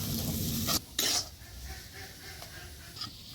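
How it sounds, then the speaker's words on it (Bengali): Fried potatoes are mashed with salt and turmeric in a pan for egg chops, with brief harsh scraping bursts early on, then softer intermittent taps and scrapes of a utensil against the pan. "আলু আমি ভালো করে ম্যাশ করে নিচ্ছি সবকিছু মশলার সাথে।"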